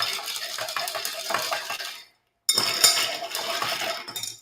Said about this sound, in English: Like really, really stir.